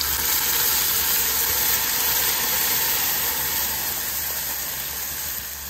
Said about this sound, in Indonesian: bila minyak dah panas, kita masukkan bahan-bahan yang dikisar tadi